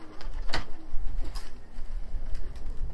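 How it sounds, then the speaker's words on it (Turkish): A Konya Abdal Arab play pigeon takes flight, giving a brief, fairly close wing flutter burst with a few softer flaps after it over a steady outdoor background. "Atalım bir bakalım, bir kanat sesine bakalım."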